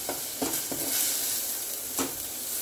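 Masala being dry-roasted in a pan for a field bean dish, with an even background sizzle broken by several quick scraping stirs of a spoon, near and with no voices.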